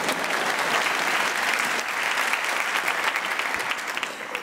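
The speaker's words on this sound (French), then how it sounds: "vous pouvez applaudir, oui." A theatre audience at an eloquence competition final in Aix-en-Provence breaks into applause, a loud, sustained, even clatter of many hands that continues throughout and thins slightly toward the close.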